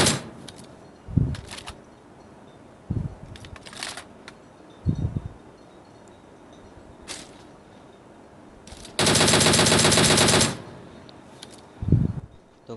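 Gunfire in a battle royale video game: scattered single shots and short bursts, then one long dense volley of automatic fire, with a few further shots after, mixed with faint game ambience and no talking.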